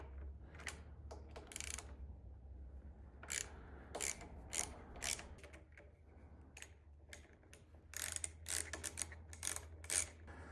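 Hand tools click and clack while a lever perch clamp comes off a motorcycle handlebar, with a series of sharp metallic ticks and short rattling bursts over a low steady hum, close by.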